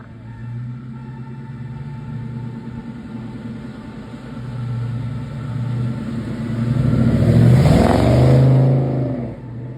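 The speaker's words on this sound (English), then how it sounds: "Power comes from a fresh LS1 Corvette crate V8" A 1937 Ford Coupe hot rod powered by an LS1 Corvette crate V8 idles with a deep, steady rumble, then revs up louder near the end before settling back, heard close and alone.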